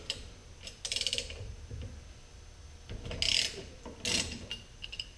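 Wrench working loose the bolts on a VW Beetle disc brake backer plate, close metallic ratcheting and clicking in a few separate bursts with quiet gaps between them.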